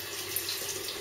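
Tap water runs steadily into a sink while a face is rinsed after a shave with a Rapira razor blade in a Merkur Futur safety razor, a close, continuous splashing wash with no talk.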